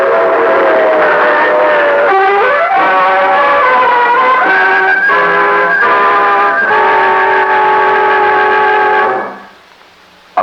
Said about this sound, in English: A blast of steam from the locomotive's whistle